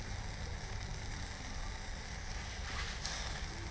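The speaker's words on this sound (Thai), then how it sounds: "น้ำมันมันตกลงไปในไฟ" Beef fat dripping from grilling beef sausages into an open fire, giving a soft, steady hiss and crackle with a brief sharper sizzle near the end, no voices.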